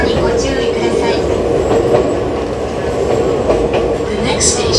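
An Enoshima Electric Railway 1000 series resistance-controlled train runs between Kamakura and Fujisawa, giving a steady loud rumble of wheels and motor heard from inside the car, with faint rail clatter throughout.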